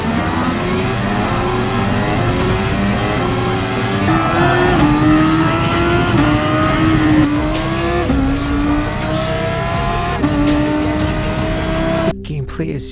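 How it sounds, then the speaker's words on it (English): A race car engine in the NovaGT racing simulator game revs loudly and continuously, with rising and falling pitch through gear changes and brief tire squeal. "Most of the cars are fun to handle, and the sound design is just stellar."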